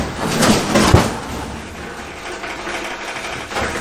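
The cut-off rear section of a four-door Chevy Nova body drops to the ground in a brief loud metallic clatter and thud, followed by a fading rattle.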